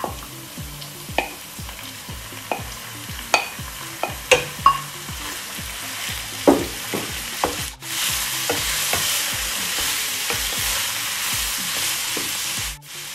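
Ground beef sizzles in a pan with garlic as a utensil stirs it, giving repeated sharp scraping taps over steady frying. The frying then swells into a louder, continuous sizzle near the end.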